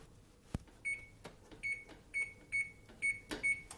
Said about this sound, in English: I'm going to turn my oven on 350